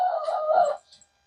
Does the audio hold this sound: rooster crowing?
yes